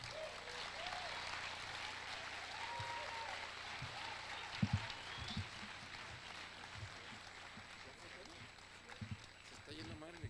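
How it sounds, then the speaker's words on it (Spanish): Audience applause for a priest at a faith and science lecture, a soft, distant, continuous patter of clapping with a few louder thumps and murmured voices underneath. "para quien les pido un aplauso"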